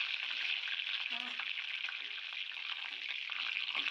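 A tempering of urad dal, chana dal, mustard seeds, cumin, dried red chillies and curry leaves fries in oil in a pan for a drumstick-tomato curry, giving a continuous, even sizzle with faint stirring.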